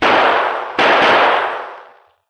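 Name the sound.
three gunshots fired in a radio drama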